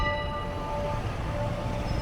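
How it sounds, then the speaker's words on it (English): A church bell on Fleet Street, London, hums with a sustained ringing tone behind loud, continuous city traffic noise on a busy street. "That's the bell you can hear"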